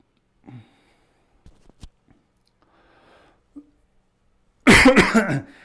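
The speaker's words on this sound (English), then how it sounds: "Sorry about the coughs." Faint throat sounds and small clicks in a quiet room, then a burst of harsh, close coughing near the end.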